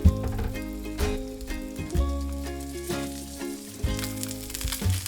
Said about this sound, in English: Grill first the skin side of the chicken.